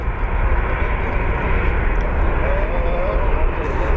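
Airliner jet departing Phoenix Sky Harbor airport bound for Atlanta, a steady loud broadband engine roar holding throughout without letup.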